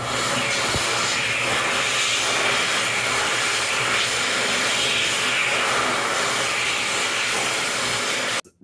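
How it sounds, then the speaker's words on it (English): An Excel Xlerator hand dryer with a .8 nozzle blows a loud, steady, high-pitched airy roar for about eight seconds without a break, then cuts off abruptly. "This accelerator did sound at a slightly higher pitch than normal. It has a .8 nozzle, as you just heard."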